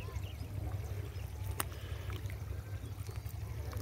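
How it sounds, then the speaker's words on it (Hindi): Irrigation water pours out across a potato field in a continuous low gushing and trickling wash, with a faint splash partway through. "ये पानी निकल रहा है"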